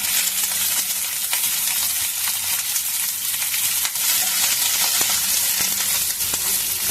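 Chopped onion fries in a pan for chili paneer, a loud continuous crackling sizzle close up with occasional stirring taps.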